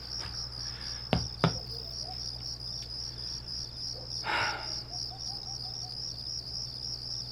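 Crickets trill in a steady high-pitched pulse throughout, with a few faint bird calls and a couple of sharp clicks nearby.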